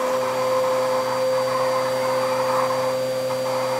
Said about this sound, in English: adding in hoovering at the same time is not going to help things